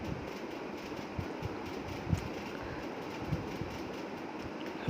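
A train pulls into a crowded station on a busy morning, its steady rumble and rail noise sitting under a dense wash of crowd murmur, with occasional clicks and knocks from the wheels.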